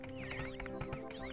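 Donkeys arriving in the video game Siedler 2, heard as a dense stretch of hoof clip-clop and braying whinnies over a steady game backdrop, with no talking.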